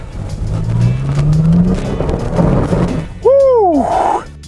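A 2017 Toyota Tacoma TRD Pro with a six-speed manual revs hard while sliding through slick Hawaiian mud, its engine note climbing steadily, then a sharp rising and falling whine of spinning wheels near the end.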